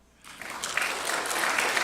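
A school awards audience breaks into steady, building applause for a high school first-place tie winner, the clapping rising from quiet and holding dense and loud to the end.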